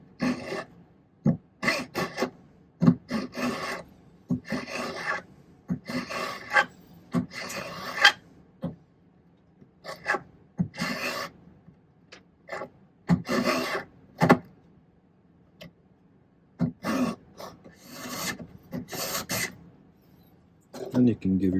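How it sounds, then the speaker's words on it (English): A small silver ball held in a divot on a bench block is filed by hand, with repeated short rasping strokes in irregular bursts separated by pauses, close and moderately loud, while someone talks. "this is using my bench block for filing."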